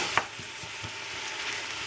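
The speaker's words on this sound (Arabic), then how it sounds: "نديرو البصل نخليه يتقلى مليح معاه حتى يدبل شويه" Onions and garlic frying in a pan, a continuous close sizzle with the soft scrape of stirring, a brief clink near the start, and no talk.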